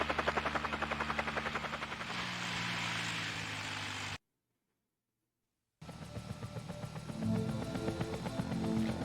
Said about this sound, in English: Look at that 3D model of a helicopter.